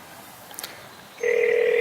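An iPhone on Verizon placing a call: after a short quiet stretch with a faint tick, a clear electronic ringback tone starts and holds steady at moderate loudness.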